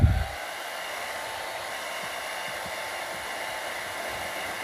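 A hair dryer set to blow, drying a damp spot on a carpet, starts with a brief thump and then runs as a steady, even whoosh, close and constant, with no talking.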